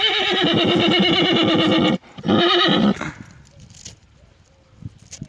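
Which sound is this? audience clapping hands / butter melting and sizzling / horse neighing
horse neighing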